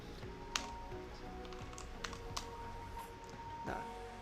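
Computer keyboard typing comes as scattered soft key taps and a few sharper clicks, fairly close but quiet over faint background noise.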